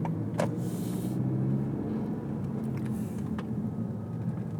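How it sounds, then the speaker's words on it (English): Cars passing on a road, a steady close traffic rumble with brief swells as vehicles go by. "See, look at all the cars coming down."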